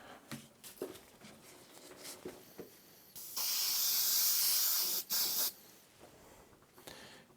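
Aerosol can of Super 77 spray adhesive sprayed onto upholstery foam in a garage, a steady loud hiss of about two seconds broken by a short pause, with quiet handling sounds around it.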